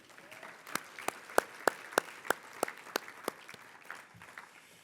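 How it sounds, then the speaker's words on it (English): About ten sharp, evenly spaced hand claps from a conference audience ring out, crisp and fairly close, then trail off into quiet room tone. "Please again give them a short round of applause."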